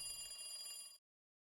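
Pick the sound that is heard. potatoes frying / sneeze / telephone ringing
telephone ringing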